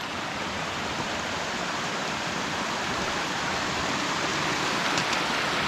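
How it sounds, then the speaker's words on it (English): Peabody Creek in Olympic National Park near Port Angeles, Washington, rushing downhill as a steady broad wash of flowing water, close and continuous with no pauses and no voices. "The creek coming down."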